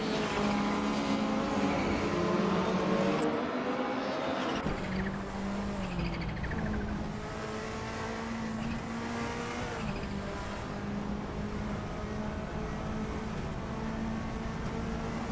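Race cars in a racing video game roar continuously with engines revving and tires squealing, a loud, steady drone that shifts pitch as the cars accelerate and pass.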